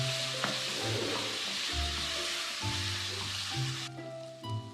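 Onion and tomato sizzle steadily in a hot pan for mutton semiya biryani, a constant close frying hiss with occasional stirring scrapes and clatter, no talking.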